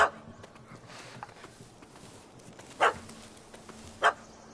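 A dog barking in The Witcher 3, two short sharp barks standing out from quiet ambient game sound, plus a brief yelp at the start.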